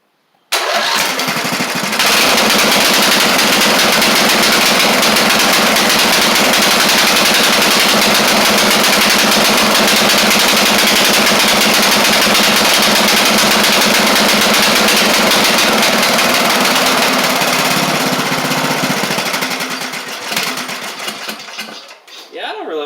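A Briggs Intek engine on a Craftsman LT1000 lawn tractor with a poorly running carburetor starts and runs loud and steady at close range for about twenty seconds, then falters and dies down near the end.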